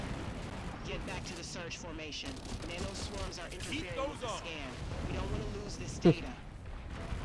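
Artillery creature bombing in the video game SYCED: a steady layer of muffled distant blasts and rumbling fire, with one sharp louder impact near the end, while people talk over it.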